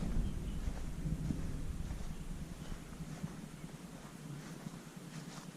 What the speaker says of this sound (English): There's some thunder.